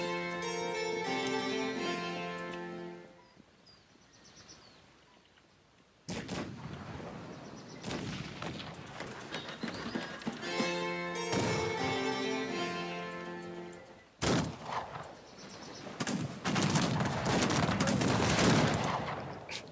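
Cannon fire in the Cossacks 3 strategy game: sharp broadband blasts and volleys of battle gunfire, mixed with game music at the start and dense, loud combat noise afterwards.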